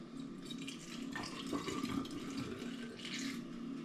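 Homebrew mixed-fruit cider is poured from a sample into a container as a steady, close liquid stream with light splashing, continuing without pause for several seconds.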